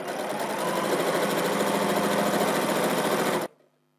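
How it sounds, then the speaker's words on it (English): A sewing machine fitted with a 1/4 inch foot runs steadily while stitching a long edge of quilt strips, a continuous close whirring hum for about three and a half seconds, then stopping abruptly into near silence. "My machine is set up with a 1/4 inch foot and my needle is set in the correct position for an accurate 1/4 inch seam allowance"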